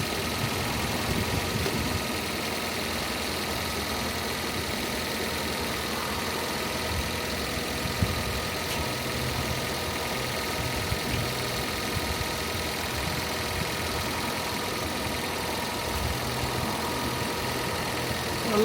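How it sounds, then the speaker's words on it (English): A Fiat 500S engine idles steadily while warming up, giving an even, continuous mechanical hum with a faint rhythmic patter, close by and alone without talk for the whole stretch. "we got the engine warm up a little bit"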